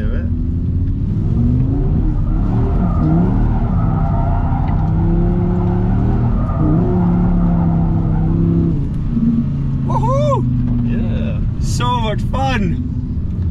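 A 2023 Audi R8 GT's V10 engine revs hard in second gear, droning loudly and steadily up close while people talk over it, with sharp, rising tire squeals from drifting toward the end.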